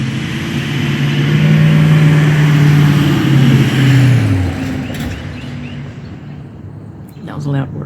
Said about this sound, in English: That was a loud work truck